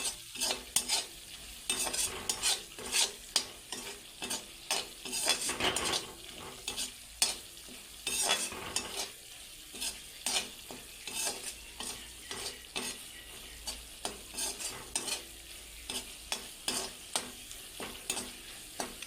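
Steady sizzling of spices frying in hot oil, broken by repeated scraping stirs of a spoon against the pan at an irregular pace.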